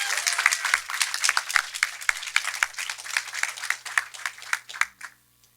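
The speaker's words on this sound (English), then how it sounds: "how about just one more round of applause for all of our amazing films today?" A festival audience at a student filmmakers' screening gives a round of applause, dense overlapping claps carrying on for about five seconds before quickly dying away into quiet.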